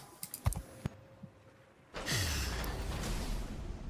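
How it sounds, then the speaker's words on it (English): A few sparse, crisp computer keyboard clicks during a live World of Warships game stream, followed by a loud breathy rush of noise that fills the rest of the clip. "Why can I hear typing?"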